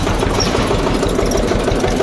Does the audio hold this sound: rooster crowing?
no